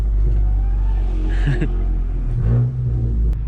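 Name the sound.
Volkswagen GTI accelerating loudly past cars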